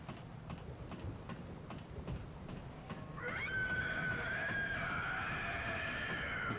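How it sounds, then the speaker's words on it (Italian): Agonizing screams in Bloodborne on PS4, a faint ambient bed giving way midway to sustained shrill, wailing cries that hold steadily to the end. "Senti che urla strazianti"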